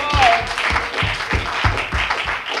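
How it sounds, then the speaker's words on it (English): A church congregation at a gospel concert claps hands together in worship, steady rhythmic claps landing about every third of a second, loud and close over a bed of music and voices. "Clap your hands and worship Jesus."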